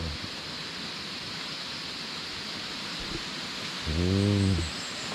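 Continuous broadband rush of a hot spring waterfall in Krabi, Thailand, steady and enveloping, interrupted near the end by a brief tonal animal-like cry.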